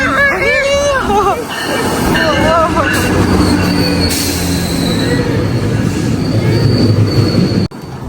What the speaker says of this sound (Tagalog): Ayan na yung train namin.